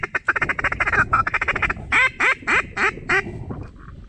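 Ducks quack repeatedly and loudly in a marsh during a hunt, a burst of many rapid calls followed by several separate, evenly spaced quacks close by.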